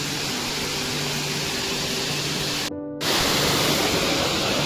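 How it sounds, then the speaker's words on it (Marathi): A small mini waterfall in a Konkan village surrounded by overgrown jungle pours steadily, making a dense, even rushing hiss that fills the clip, with a brief break partway through. "तर मित्रांनो, अशा पद्धतीने आहे हा मिनी वॉटरफॉल।"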